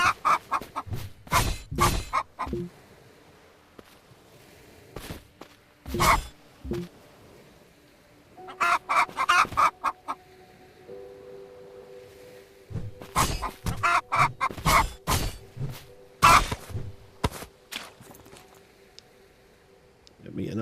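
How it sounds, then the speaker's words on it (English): A chicken clucks in the video game Everwind, short bursts of clucks recurring in clumps at close range, interleaved with a person talking and a faint steady tone in the background. "I heard a cluck cluck."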